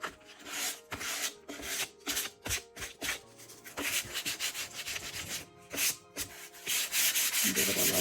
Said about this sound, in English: And then I'm just going to sand a little bit on this.